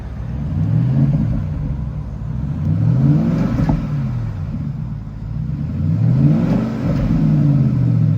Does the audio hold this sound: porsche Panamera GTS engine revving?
yes